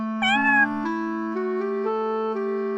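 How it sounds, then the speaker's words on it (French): A single long, drawn-out cat meow, clear and close, holding its pitch for a couple of seconds. "les chats saluent les gens ou annoncent leur présence avec un son faible"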